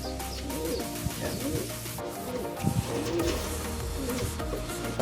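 Pigeons coo in soft, repeated low throaty calls, fairly close, over a steady background hum with no talking.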